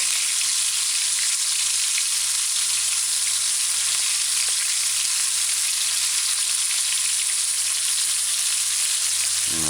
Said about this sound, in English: the sizzling of the oil frying the fish